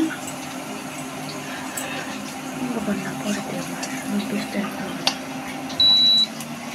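An induction-style cooktop gives a single short electronic beep near the end as its power is turned up during cooking, sounding clear over a faint background hum with quiet room noise.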